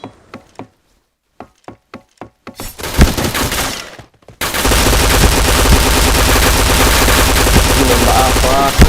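Gunfire in the shooter game Point Blank: a handful of separate sharp shots, then a heavy, continuous automatic burst that runs loud and dense to the end.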